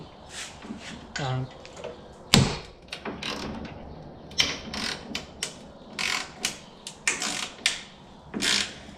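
Factory paint pops and crunches in short, irregular clicks and snaps while the tailgate of a 2018–2020 Ford F150 is adjusted during a tailgate assist install, close-up, with a louder crack early on.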